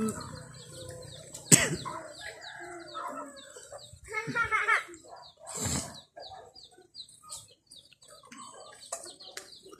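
Chickens cluck and squawk close by in scattered bursts, with a few bird chirps and people talking intermittently.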